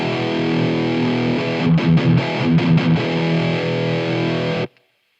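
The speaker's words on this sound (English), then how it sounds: "If you're on overdrive 2, for example, this is without the damping control." Marshall MG50CFX guitar amp on its overdrive 2 channel with damping control off, a thick distorted electric guitar holding a sustained chord, then a burst of choppy strummed hits, before cutting off abruptly into silence.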